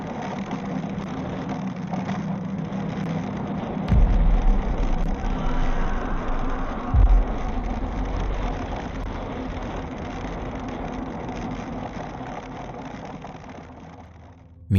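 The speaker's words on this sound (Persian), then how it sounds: "اون سوار موتورسیکلتش بوده و داشته توی اون بزرگراه میرفته" Motorcycle ridden along a highway, its engine droning steadily with continuous road and wind noise, plus a couple of brief low thumps partway through and a sharp burst at the very end.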